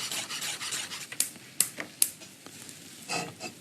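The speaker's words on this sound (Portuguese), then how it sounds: "E o alho eu também gosto de laminar, em vez de picar." Garlic cloves being sliced thinly with a knife: soft rubbing and rasping cuts, with three crisp taps of the blade against the board in quick succession and a gentle scraping sweep afterwards, close and clear with no talk.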